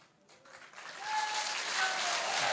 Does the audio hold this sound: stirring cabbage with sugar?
no